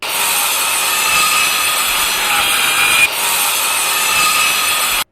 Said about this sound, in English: I've got to cut out all this dry rot.